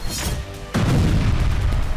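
A sudden heavy boom from a Russian strike in Kyiv hits partway through and leaves a deep, rumbling roar that continues loudly to the end.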